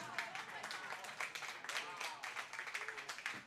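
Applause from the crowd in the warm room at a curling match, the 2017 GNCC U18 Championship, a modest patter of clapping heard faintly under a commentator's voice.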